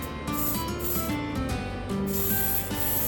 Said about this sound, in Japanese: オートクリアーを塗装します。